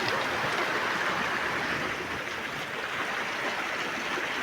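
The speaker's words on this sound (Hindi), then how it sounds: "नदी जो है ना यहाँ पर बहुत तेज़ तरीके से बह रही है।" A swollen river rushes fast and strong after heavy rain, its steady, loud roar of churning water filling the whole stretch without pause.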